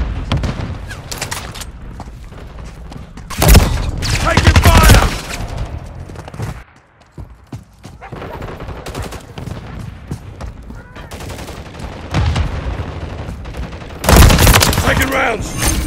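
Call of Duty firefight: stun grenade blasts and bursts of gunfire, with loud booming explosions around the third-to-fifth and fourteenth seconds and steady shooting between them, interrupted by a brief lull.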